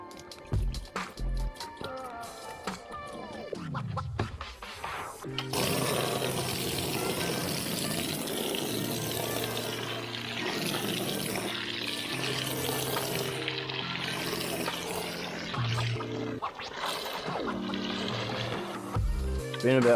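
Water poured over Daihatsu gearbox parts during cleaning, a continuous splashing and trickling that runs close and steady for most of the stretch, with a few brief knocks and clatters at the start.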